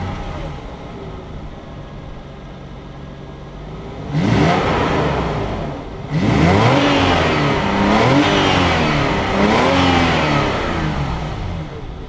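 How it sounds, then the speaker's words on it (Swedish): A BMW E38 750 with a V12 engine and original exhaust revs up in two strong pulls after a quiet idle, rising and falling, fairly loud and close but still subdued. "måste vi ta tillfället i akt att lyssna lite på ljudet från V12."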